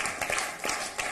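An audience at a Hindi poetry gathering claps in a short, uneven burst, with distinct individual claps standing out from a moderate, close crowd sound.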